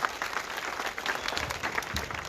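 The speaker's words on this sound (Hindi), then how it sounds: "आदरणीय मंत्री महोदय एक बार जोरदार तालियां आपके सम्मान।" An audience at a government cleanliness campaign event applauds in honour of the minister, giving a continuous, moderately loud wash of many hands clapping together without a break.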